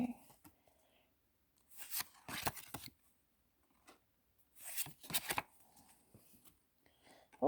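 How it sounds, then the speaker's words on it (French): Tarot cards are shuffled and drawn in two quick bursts of riffling and snapping, separated by quiet stretches with soft handling noises. "On va tirer 3 cartes."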